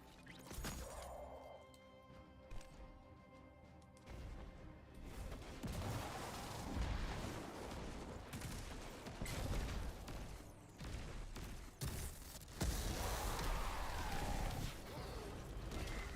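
A grenade goes off during a firefight in the Destiny video game, with sharp booms and crashes mixed into steady gunfire and mechanical clatter at moderate loudness.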